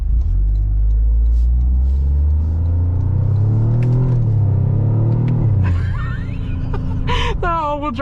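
Toyota GR Corolla rally hot hatch engine rumbling loudly while driving through a corner, its pitch rising and falling, close and dominant, with brief squeaky sounds near the end.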